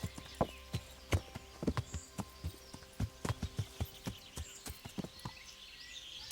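Horse hooves clip-clopping at a walk in the medieval video game Kingdom Come: Deliverance, a steady run of close, distinct hoof strikes with a few creaks from the saddle and harness over quiet outdoor ambience.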